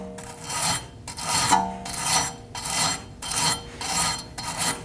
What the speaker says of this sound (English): Using a wire brush, clean the hub.